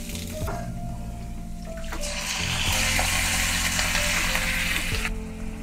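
Cloves, small cardamom pods and a bit of cinnamon drop into hot oil and start to sizzle, the crackling swelling louder halfway through over a steady background hum, then easing off.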